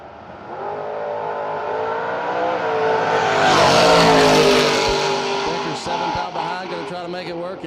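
Drag racing cars, including the Decker family Camaro, roar down the strip with a loud engine note that swells as they accelerate and pass, then fades, with an announcer talking over the racket.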